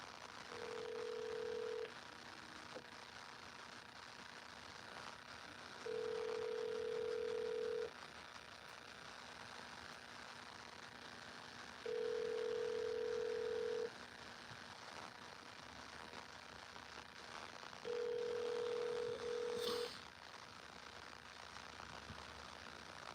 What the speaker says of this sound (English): that sounds like a weird ring